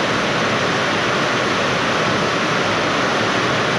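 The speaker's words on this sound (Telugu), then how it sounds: "ఫుల్ వాన పడుతుంది" Heavy rain pours in hilly country, a loud, unbroken hiss of dense falling water that stays even from start to finish with no other sounds.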